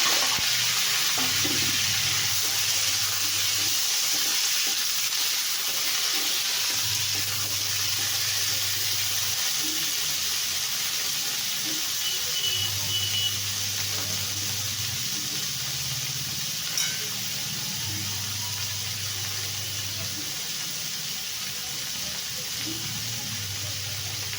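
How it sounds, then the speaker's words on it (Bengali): Cauliflower stalks frying in a pan, giving a steady, close sizzle that holds level throughout with a faint low hum beneath and no talking. "এরপরে আমি দিয়ে দিচ্ছি কপি ডাঁট"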